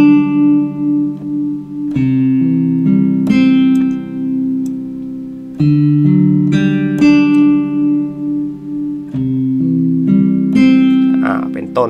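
Guitar voice played on a WK-310 88-key digital piano, sustained plucked-string tones in a slow series of notes and chords, close and clear with ringing decays.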